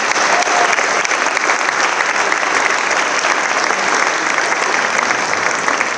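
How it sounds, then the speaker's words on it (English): A crowd of student athletes and parents in a high school setting applauds coaches at an athletic signing event, producing loud, sustained, even clapping throughout with no pause. "giving our coaches a round of applause"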